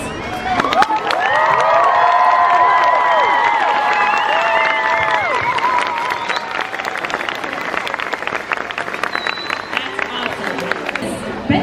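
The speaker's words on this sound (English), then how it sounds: "So I'd like to just send up a big cheer to Debbie. If you could all join us for a big round of applause." A crowd at a tribute to Debbie Reynolds cheers loudly with shouts and whoops, then settles into sustained applause with sharp individual claps, while voices call out over it.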